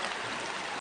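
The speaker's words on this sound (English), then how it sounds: "the one you're hearing now is actually water on a tree" Water runs over a tree with a steady, soft trickling rush, continuous and fairly quiet before cutting off abruptly at the end, with no voices.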